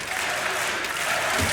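Dense, steady applause from a large crowd fills the arena at a DreamHack Masters Malmö Counter-Strike semifinal on Mirage between NiP and GODsent, a continuous loud wash of clapping with no break.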